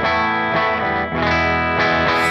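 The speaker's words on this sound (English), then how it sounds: "Now this, just with the bridge pickup going straight into the Rev D20, it sounds like this." Electric guitar on its bridge pickup played straight into a Rev D20 amp set at the edge of breakup, giving sustained, slightly gritty chords that ring continuously and are re-struck a few times, loud and alone.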